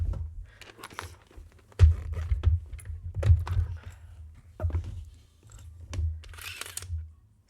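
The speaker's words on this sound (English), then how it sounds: "wanted to get this packaging out to sort the keycaps back in, just to drop all of them." Plastic keyboard keycaps drop into their packaging, scattered light clicks and clattering rattles up close, some in small clusters, with quiet gaps between.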